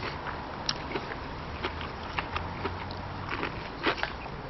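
Someone bites into crispy stuffed calamari, producing a series of sharp, close crunches and crackles spread over a few seconds against a quiet background.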